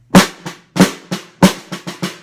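Solo snare drum strokes from an 8th grade audition excerpt, eight sharp close hits alternating strong accents with lighter taps in a brisk syncopated pattern, no voices over them.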